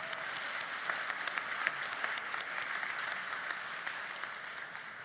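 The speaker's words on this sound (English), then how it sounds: "a big applause" Steady, sustained audience applause fills a graduation ceremony hall at Cecil College, dense clapping continuing evenly throughout with no talk over it.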